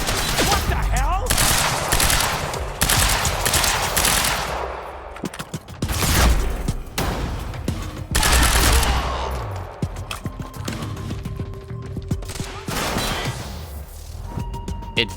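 Rapid bursts of SMG and assault rifle fire in the action game Quantum Break, loud and close, in repeated volleys with sharp single shots between, and someone talks over parts of it.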